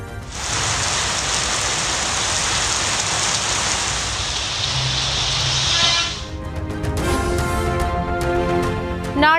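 Steady summer rain pours down in a loud, continuous hiss for about six seconds, then gives way to a different tonal sound.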